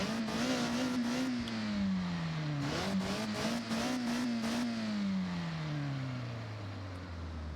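A 1999 Toyota Altezza engine revs in the Forza Horizon video game, loud and close. Its pitch climbs, dips briefly, climbs again, then winds steadily down as the revs fall away.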